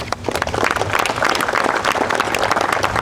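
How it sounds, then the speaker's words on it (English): An audience at a mobile hygiene unit launch ceremony applauds, a loud, dense, continuous burst of many hands clapping close by. "And I'll give a special round of applause for Pastor Paul Baines, Alicia Garcia, and Anita Blount."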